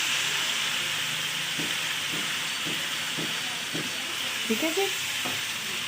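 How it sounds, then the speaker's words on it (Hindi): Ginger garlic paste frying in a pan for fish curry, a steady loud hiss with faint scraping stirs repeating every half second or so, and someone briefly speaks near the end. "हमने अदरक लहसुन फ्राई कर लिया"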